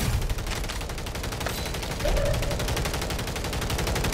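Rapid automatic gunfire in Call of Duty Warzone Rebirth, a steady machine-gun rattle of evenly spaced shots that runs the whole time and gets slightly louder partway through.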